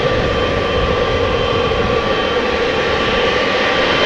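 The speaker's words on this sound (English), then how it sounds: "Turkish Airlines flight 1952 to Istanbul" A Turkish Airlines Boeing 777-300 jet, eight years old, at Amsterdam Schiphol Airport gives a loud, steady engine roar with a faint tonal whine, continuous for a few seconds with no speech.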